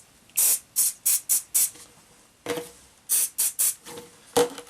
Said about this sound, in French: On va passer ensuite du spray anti-perles, donc qui est un spray qui permet le collage des particules